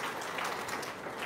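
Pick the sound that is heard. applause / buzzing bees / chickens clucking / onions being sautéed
applause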